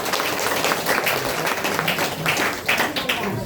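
Hearty applause for a mentor and speaker at a DXN sharing event in Malangawa, Nepal, a dense, fairly loud continuous clatter of many hands filling the whole stretch.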